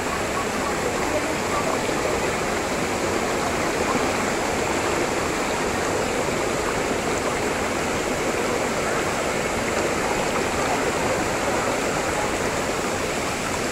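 Several waterfalls at Ma Dai Stream, Hong Kong, pour in a loud, close, unbroken roar of rushing water that holds steady throughout.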